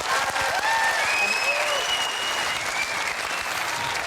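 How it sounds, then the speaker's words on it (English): Audience applause on a magic game show, a dense burst of clapping from a studio crowd, loud and close, sustained for several seconds with no talk over it. "Give them a big round of applause."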